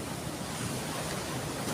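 Steady wash of sea surf rolling onto a beach at Anini-y, Antique, a soft continuous hiss of waves mixed with light wind buffeting the microphone, no voices.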